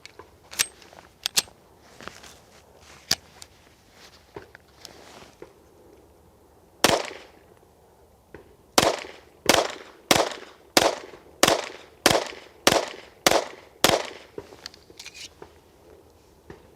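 Pistol shots from a Dan Wesson DWX on a shooting range: a few scattered reports, then a steady string of about ten evenly spaced, loud, sharp cracks fired alone.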